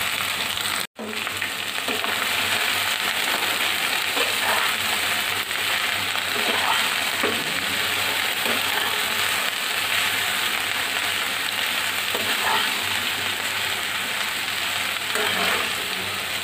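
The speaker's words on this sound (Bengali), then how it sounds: "আমি গরম তেলে কিছু আস্ত জিরে ফুটিয়ে মধ্যে পেঁয়াজ দিয়ে পেঁয়াজগুলো হালকা বাদাম করে ভেজে নিয়েছি।" Whole cumin seeds and onions fry in hot oil, giving a steady, close broadband sizzle with light stirring scrapes. A very brief dropout comes near the start, and no one speaks.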